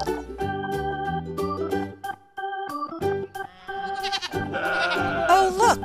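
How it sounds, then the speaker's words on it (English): A gray goat on a farm bleats several times, with a melodic children's background music bed playing throughout and a brief moment of near silence partway through. "Oh, look, one gray goat."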